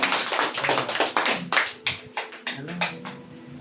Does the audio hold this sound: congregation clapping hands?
yes